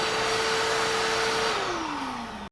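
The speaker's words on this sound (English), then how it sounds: "you can use your wet vac to clean out any debris that's inside" A wet vac cleaning debris out of a coffee grinder, a loud steady motor roar with a whining tone that holds, then slides downward as the machine winds down and stops.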